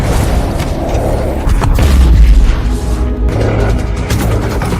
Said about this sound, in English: Levi's shot triggers a landmine, but the blast also injures Drasa.